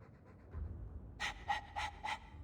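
A dog in Dragon Age 2 pants, starting softly, then a burst of four loud, close, rhythmic breathy huffs.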